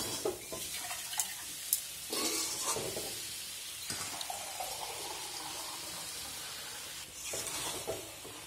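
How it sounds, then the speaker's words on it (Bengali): Amla is stirred into powdered sugar, producing soft scraping and gritty rustling strokes in irregular bursts, close and moderately quiet, with no talk. "আমি এখন সুগার পাউডারের সঙ্গে আমলকিটা মিশিয়ে নিচ্ছি।"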